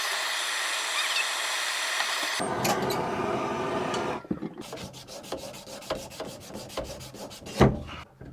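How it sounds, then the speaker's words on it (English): Copper pipe sanded by hand during a small bathroom remodel: a steady scraping rasp first, then a rapid run of short rhythmic rubbing strokes, close and loud, with no talking. "let's just sand this back up to where you can see the copper"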